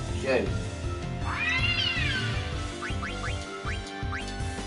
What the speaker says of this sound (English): Go away, cat, I'm not bothered.